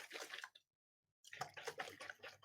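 Water and muddy sediment being shaken in a jar, giving quiet wet sloshing and splashing in two bursts separated by a brief silence.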